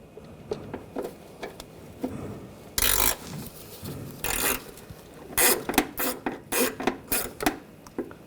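A ratchet with a 10mm socket loosens intake manifold bolts on a 2004–2012 Chevrolet Colorado 3.7L, giving bursts of clicking strokes, some long and some quick, close and alone.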